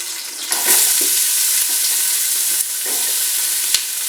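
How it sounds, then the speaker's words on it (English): Onions sauté in a hot pan beside a four-pound roast, giving a loud, continuous close-up sizzle. A few sharp clicks of stirring break through it. "Now we're going to drop in our onions."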